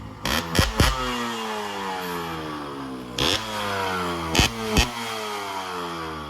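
A modified Yamaha RX 100 motorcycle with a chamber exhaust revs hard in several sharp bursts, its engine note rising and falling between loud throttle blips over a steady idle, with no talking.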